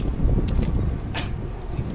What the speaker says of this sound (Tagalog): Kaya pala mahangin dito